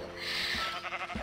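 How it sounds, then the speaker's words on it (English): A black sheep in Minecraft bleats once after being punched, a short wavering game bleat heard alone at moderate volume. "if I go punch that sheep right there"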